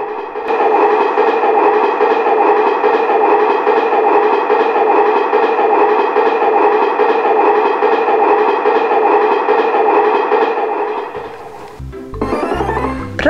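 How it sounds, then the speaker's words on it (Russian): A train rumbles past loudly with a steady rolling clatter and engine drone, continuous for several seconds before fading into a different brief sound. "Правильно, это поезд."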